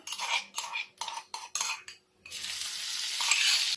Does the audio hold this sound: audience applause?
no